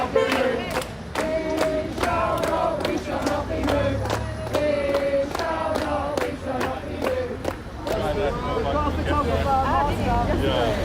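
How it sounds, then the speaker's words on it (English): A crowd of protesting activists cheering outdoors, a dense, steady roar of many voices shouting together, with rhythmic claps or banging through the first half and loud individual shouts rising above the din. "So when you hear them cheering like that as well"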